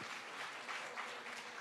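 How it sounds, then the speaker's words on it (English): Faint, steady applause from a conference audience at the European Sustainability Congress 2025 for the two translators, a soft even wash of many clapping hands heard from a distance. "I would also give a big applause to the two translators over there"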